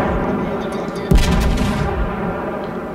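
Naval guns of the Dunkerque battleship firing in World of Warships, one sharp heavy blast with a rumbling tail, over steady ship engine noise and a commentator speaking.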